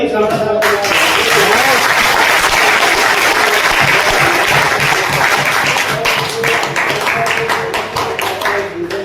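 A large seminar audience bursts into loud applause, many hands clapping in a dense roar that thins into scattered individual claps toward the end, with some voices mixed in.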